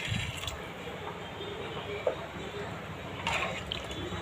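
Rice-washing water trickles and splashes as it is poured into a pot, a soft steady liquid sound with a brief drip and a faint clatter near the end.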